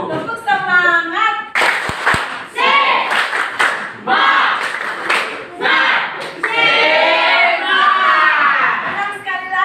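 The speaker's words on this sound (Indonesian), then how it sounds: "Begitu kita tepuk semangat saja ya anak-anak. Ya, tepuk semangat." A class of children shout a rhythmic chant together with bursts of sharp unison clapping, loud and close, in patterned groups with brief pauses between phrases.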